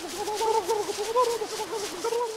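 Turkey gobbling in the survival video game Don't Starve, a steady warbling call with wavering pitch that runs continuously for a couple of seconds at moderate loudness, with no voices over it.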